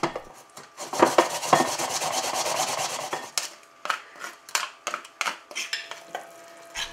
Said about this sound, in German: Und diese rohe Kartoffeln schälen wir und reiben sie sehr fein.